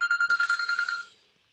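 A mobile phone ringtone trills in rapid pulses and then cuts off, with the last ring trailing into a short fade and quiet.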